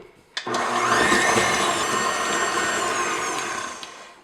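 An electric mixer creams brown sugar into cupcake batter for maple bacon cupcakes, starting abruptly after a brief click and running as a loud, steady whirring drone for about four seconds.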